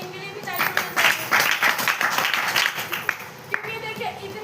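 Audience clapping, a sustained round of applause from many hands that swells and then tapers, with a voice speaking over it near the end.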